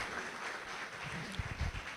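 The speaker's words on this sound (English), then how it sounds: "Please, a round of applause for our global coordinator." Brief crowd applause at a trainers' summit in Owerri, a thin scattered clapping that swells slightly near the end, with no voices over it.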